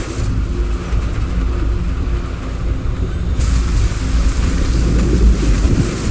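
Steady rain pours through a storm in Syberia The World Before, with a dense hiss that swells louder partway through, and low rumbling thunder underneath.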